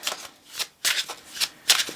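Tarot cards being shuffled by hand in a series of quick riffling bursts, close and fairly quiet, in an irregular rhythm with short pauses between them.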